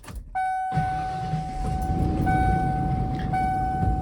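A 1995 Ford Bronco is started up, with a brief starter crank followed by the engine catching into a steady idle, while a constant chime tone sounds over it.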